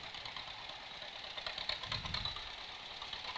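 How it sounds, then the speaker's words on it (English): Old tractors, including a Farmall McCormick, a John Deere and a Ford Workmaster, rumble past in a Christmas parade, with a low knocking engine idle and a deeper chug swelling midway, fairly distant under outdoor ambience. "Along with the tractors following up here."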